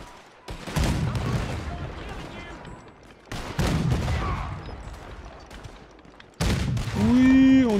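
A cannon fires in Red Dead Redemption: three heavy booms, each followed by a long rumbling decay, the last one loud and close with a ringing tone after it.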